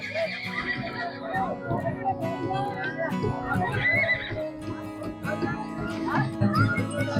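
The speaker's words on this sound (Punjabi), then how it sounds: "ਆ ਤਿੰਨ ਘੋੜੇ ਜਿਹੜੇ ਹਜੂਰ ਸਾਹਿਬ ਤੋਂ ਆਏ ਨਾਲ ਟ੍ਰੇਨ ਦੇ ਵਿੱਚ" Horses that arrived by special pilgrimage train from Hazur Sahib neigh and whinny repeatedly amid a crowd, with people talking over a busy outdoor background.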